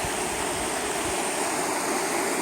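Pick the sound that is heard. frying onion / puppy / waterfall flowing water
waterfall flowing water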